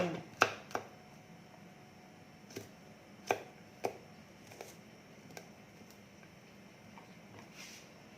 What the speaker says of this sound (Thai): เราก็หั่นประมาณนี้แหละ